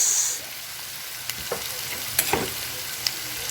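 Corned beef sautéing in a frying pan makes a steady close sizzle and hiss, with a few sharp spatula clicks scattered through.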